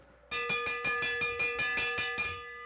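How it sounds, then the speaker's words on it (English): Bell rung repeatedly to start an e-bike pacer race, about seven or eight sharp metallic clangs in quick steady rhythm, loud and close, ringing out and fading at the end. "The bell is rung."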